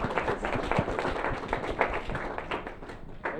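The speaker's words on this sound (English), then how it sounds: "Can we give these guys and gals a round of applause?" An audience at a computer science education day gives a round of applause, with distinct individual claps close by forming a brisk, moderately loud patter for a few seconds.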